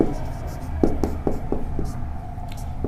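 Handwriting on paper during a maths lesson, a run of soft, close scratchy pen strokes in quick short bursts over a low room hum.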